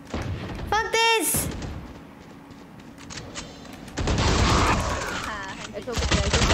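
Gunfire in a Valorant match rattles in close, loud bursts under excited team chatter, with a quieter stretch before a heavier volley returns near the end.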